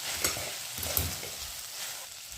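Okra frying in a pan is stirred up from the bottom, a soft steady sizzle with a few light scraping strokes from the spoon, close and fairly quiet.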